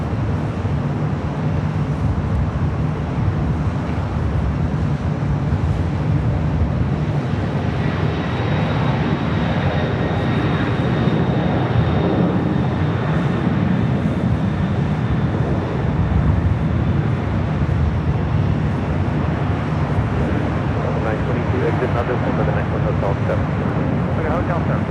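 A Boeing 767-300ER converted jet taking off from runway 25 right at LAX: a loud, steady, broad engine roar that holds throughout, with a voice talking over it.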